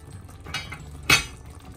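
A metal lid set back onto a cooking pot of pinangat na isda, a faint scrape followed by one short, bright metallic clink close by.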